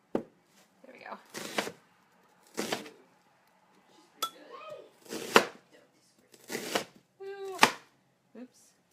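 Knife chopping burrito ingredients on a cutting board, in short bursts of crisp, close taps with pauses between them and a few light clinks, while a person talks.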